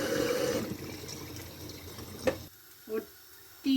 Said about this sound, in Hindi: 4 लीटर मैंने पानी लिया है ये बड़ी सी हंडिया में।